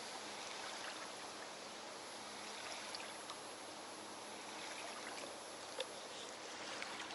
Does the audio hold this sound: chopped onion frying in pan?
no